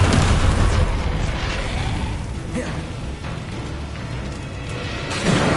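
Dense, continuous rumbling blasts from Confringo fire spells in Hogwarts Legacy combat, booming explosions layered over one another with little pause.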